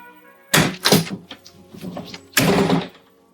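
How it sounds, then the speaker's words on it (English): Door slamming in a film, with two heavy thuds and rattles, plus scattered knocks and clatter between them, loud and close. "you can't even slam a door properly"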